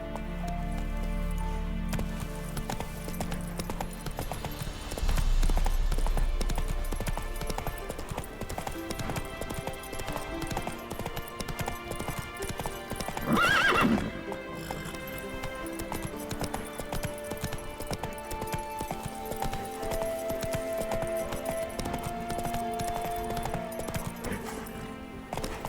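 Horse hooves clip-clop steadily through the open world of The Witcher 3, a continuous trotting rhythm under game music with a brief louder burst midway and a faint whinny.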